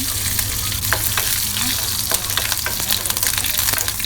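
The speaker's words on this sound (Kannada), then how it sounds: "ಇದನ್ನು ಸ್ವಲ್ಪ ಹೊತ್ತು ಫ್ರೈ ಮಾಡ್ಕೊಳ್ಳೋಣ." Mustard seeds and curry leaves frying in hot oil for coconut chutney, a loud steady sizzle with crackling pops and occasional stirring, close up.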